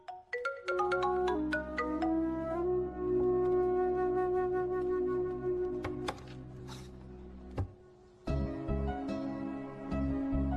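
A phone ringtone plays a melodic tune at steady volume, several notes layered over a sustained tone, pausing briefly near the end before resuming, with no talk over it; it comes from a Hindi-dubbed South Indian film scene.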